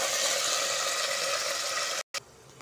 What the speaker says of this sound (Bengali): আলুটা আমরা ভাজবো